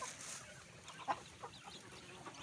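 Bangkok chicken clucking faintly in a quiet pen, a few soft, scattered clucks over low background noise.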